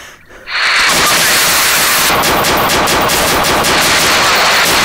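Rapid, dense gunfire from police erupts after a short lull, a loud and continuous crackling volley of shots that stays harsh and close for several seconds.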